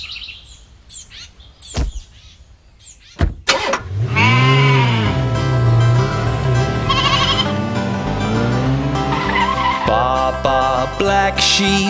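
A sheep bleats loudly for several seconds in a children's nursery rhyme, a wavering, quavering cry over musical backing, preceded by a few sharp percussive hits and a chirp.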